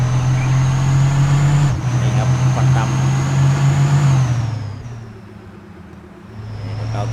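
Livestock truck engine in Farming Simulator 19, revving loud and steady with a strong low drone, dipping briefly around the middle then easing down before rising again near the end, a faint high whine above.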